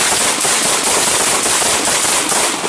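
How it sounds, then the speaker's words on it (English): Continuous dense crackle of gunfire from a police shooting of a woman holding a gun in Longview, loud and unbroken throughout with no clear gaps between reports. "Shots fired."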